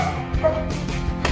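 Pet dogs barking indoors in a house, a few brief yips and barks close by, mixed with rustling movement.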